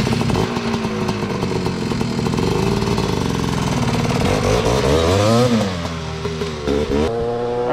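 A 1987 Tecate 4 ATV engine warms up nearby, buzzing loudly with rising and falling revs and wavering pitch sweeps toward the end, with no voices.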